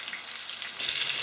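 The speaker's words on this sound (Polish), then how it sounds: "Smażę na złoty kolor z każdej strony." Close, steady sizzling of turkey cutlets frying in hot oil and butter, a bright crackling hiss that grows slightly louder toward the end.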